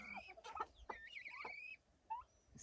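A backyard flock of hens and a rooster clucks and chatters close by in a few quick bursts, with a brief pause in the middle.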